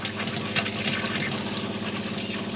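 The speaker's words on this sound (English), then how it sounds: "now we're getting water spluttering through." Water splutters and gushes from a tap in a Swift motorhome while the water heater fills, an irregular hissing, bubbling flow that is close and continuous, with no talking.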